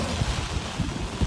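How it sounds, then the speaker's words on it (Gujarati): Strong wind buffets the microphone in a green rural village during rainy weather, a continuous rushing roar with low gusty thumps coming in several bursts, no voices. "પવન એટલો છે બાપરે"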